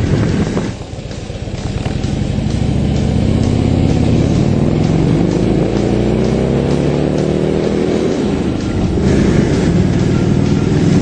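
A 2012 Harley-Davidson Dyna Switchback motorcycle with a big new motor accelerates hard, its engine note rising steadily in pitch over several seconds, loud and close with steady wind rush, then dropping back briefly near the end.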